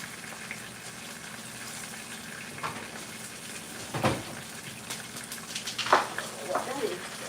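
Kingfish sizzles gently in a pan with a little oil on a home stove, a soft steady crackle and hiss with a few louder pops and spatters near the end.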